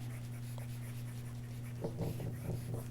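An eraser rubs across a writing board in a few short scrubbing strokes near the end, faint under a steady low electrical hum.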